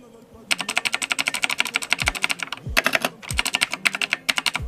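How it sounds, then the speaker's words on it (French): A Razer BlackWidow mechanical keyboard is typed on rapidly, producing crisp, loud, close clicky keystrokes in quick bursts with brief pauses and a few heavier thumps from larger keys. "Donc écoutez le bruit du Black Widow."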